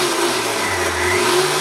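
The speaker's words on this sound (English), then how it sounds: "Let me blend it one more time." A Blendtec blender with a KTec Champ motor base and Alterna jar whirs loudly and steadily at close range, blending a ginger grapefruit smoothie in one short continuous burst with no talk.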